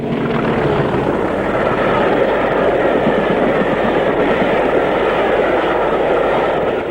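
A British Rail Class 40 diesel locomotive, number 40013, hauls a train past Hathersage in February 1983, a loud, steady rumbling roar sustained throughout without voices.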